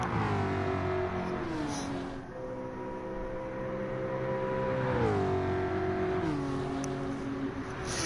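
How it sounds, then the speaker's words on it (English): A deep, throaty V8 engine of a Group 4 Mustang race car rumbles steadily, its pitch rising and falling as it revs, loud and close. "Listen to that V8 rumble."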